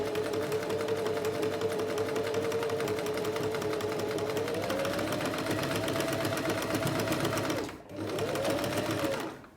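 An Alfa Practik 9 domestic sewing machine with a size 80 universal needle stitches steadily through 12 layers of fabric, its motor humming and needle clattering rapidly, with a brief pause near the end before it runs again.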